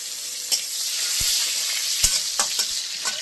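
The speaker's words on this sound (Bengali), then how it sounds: "পেঁয়াজ একটুখানি ভাজতে দিলাম এর মধ্যে" Steady hissing sizzle of onions frying in a pan, with a few brief clinks and scrapes from stirring.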